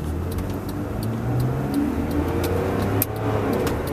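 A car drives past nearby as a steady, loud engine and road rumble, with light ticking clicks scattered over the top.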